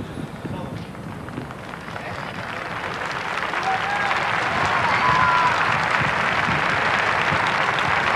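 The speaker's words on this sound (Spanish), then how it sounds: "Nuevamente aplausos" A large street crowd applauds steadily along a royal funeral procession for Don Juan de Borbón in central Madrid, the clapping swelling louder midway and holding as a broad, continuous wash.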